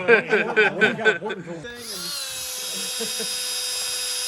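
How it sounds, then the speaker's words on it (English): A Dremel rotary tool whines steadily at high pitch while porting a throttle body, starting abruptly after a burst of laughter and holding a constant, close, sustained tone. "Someone give me a Dremel."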